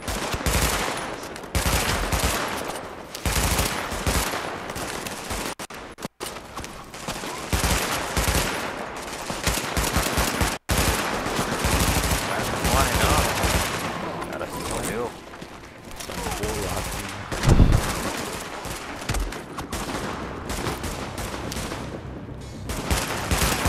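Sustained gunfire in The Division, a cooperative shooter game, with dense bursts and rapid fusillades running nearly throughout, loud and busy, while players talk over the shooting.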